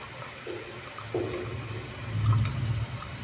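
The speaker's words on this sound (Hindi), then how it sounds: "अब पाँच मिनट बाद आधा ग्लास दूध डाल दीजिए" Milk poured into carrot halwa cooking in a pan, a short gurgling, splashing stream that grows louder toward the end, close and without talk.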